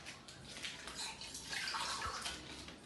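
Water pours into a clear container, a soft, faint trickling and splashing that swells and fades over a few seconds, with no talking.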